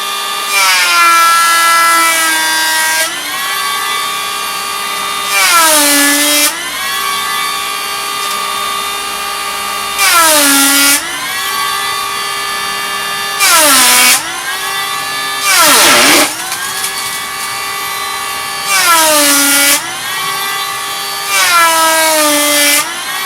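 Makita 18V cordless brushless planer shaving wood, a high whining motor hum broken by repeated bursts of loud hissing cuts that pull the pitch down, about eight passes at an uneven rhythm.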